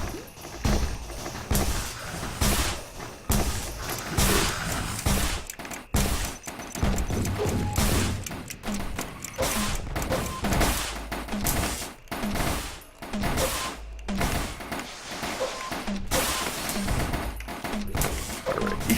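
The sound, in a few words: missile attacks in video game Risk of Rain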